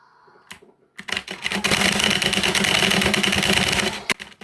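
Rapid computer keyboard typing during a French stealth-survival video game session, a dense run of close clicking keystrokes lasting several seconds with a few isolated taps before and after.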